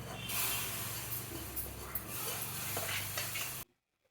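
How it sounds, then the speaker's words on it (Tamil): Sambar powder frying in hot tempering oil in a small pan, a close, continuous crackling sizzle with light stirring clinks that cuts off abruptly into silence near the end. "இந்த சாம்பார் பொடியை அந்த தாளிப்புலேயும் சேர்த்து நல்லா ஒரு நிமிஷம் லேசாக ஃப்ரை பண்ணுங்கள்"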